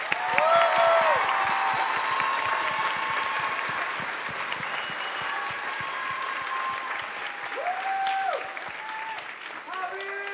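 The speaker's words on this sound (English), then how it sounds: "a round of applause for yourselves" A crowd at a Mexican folkloric dance event delivers a sustained round of applause that starts strong and slowly tapers, with cheering whistles and voices rising over the clapping.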